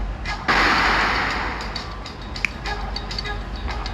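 A sudden loud blast erupts and decays into a rumbling roar, followed by a sharp crack and scattered smaller bangs, from bombs dropped in a country-conquering strategy video game.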